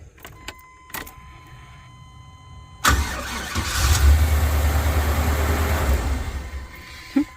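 A 2000 Chevrolet Express van under repair has its engine cranked after a few clicks, then it catches and runs with a low, steady rumble, close and fairly loud.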